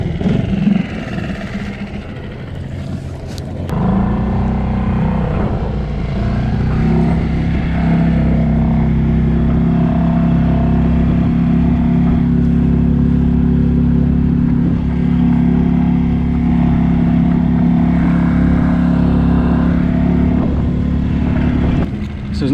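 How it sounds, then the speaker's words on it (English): A small boat's engine cranks briefly, catches, and settles into a steady, loud, close-up idle rumble that runs unbroken for about twenty seconds with no talking. "if my engine will start."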